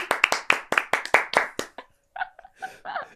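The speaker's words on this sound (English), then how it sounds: "They live on the applause." A few people clapping in quick, sparse rhythm, about a dozen distinct claps close to the microphone, then voices and a whoop as the clapping stops.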